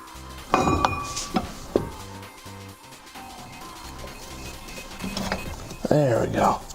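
Metal clinks, taps and mechanical clatter come from removing a brake caliper on a Pontiac GTO, several sharp knocks and scrapes at close range, with someone talking over and between the work sounds.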